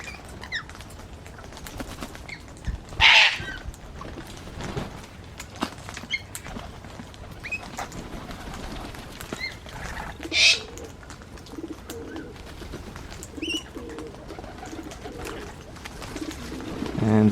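Birds at a backyard feeding table, including rainbow lorikeets and a male king parrot, with shrill squawks, flapping wings and soft cooing close by, and quieter chatter in the background.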